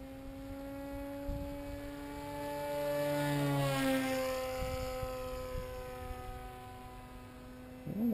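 The electric motor of an FT Spear Maiden RC plane flying gives a steady tonal whine that rises and dips as it passes overhead, fairly faint and distant, with a steady hum underneath.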